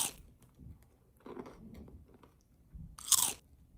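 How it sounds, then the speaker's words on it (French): Crunchy bites and chewing of food, several close, dry crunches spread over a few seconds with a sharp, loud crunch near the end, no talking. "Je croque dedans parce que j'ai vraiment très très faim"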